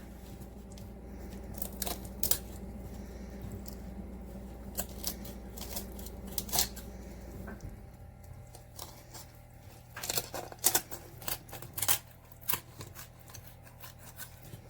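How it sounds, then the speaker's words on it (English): Kitchen shears crunch and snip along the backbone of a raw chicken being spatchcocked, a series of sharp close cuts in uneven bursts, thickest toward the end, over a low, quiet background. "you're just going to cut alongside of it with your kitchen shears"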